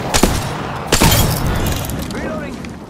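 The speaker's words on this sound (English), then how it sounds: "Fox 3 firing missiles." Missiles launching in Apex Legends, with two sharp loud blasts in quick succession followed by a long rumbling decay while voices talk over the action.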